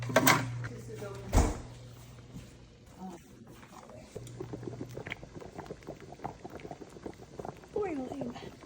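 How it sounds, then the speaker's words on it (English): Water boils in a pot while a four-meat lasagna is being cooked, a soft bubbling and clatter of cookware running underneath people talking close by. "Boiling."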